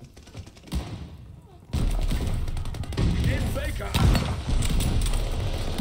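Call of Duty Vanguard multiplayer gunfire from a Type 99 rifle, with thuds and bursts of shots, loud and dense after a quieter start, with someone talking over it in German.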